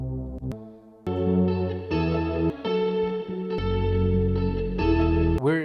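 A synth loop with reverb plays a steady melodic pattern over a newly added deep sub bass. Sustained chorded notes change every second or so, loud and continuous, with a brief pitch-swept effect at the end.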